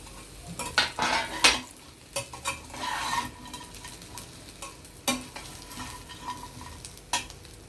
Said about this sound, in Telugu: వేయించిన చికెన్ ముక్కలు వేసేసి ఒకసారి తిప్పుకుందాం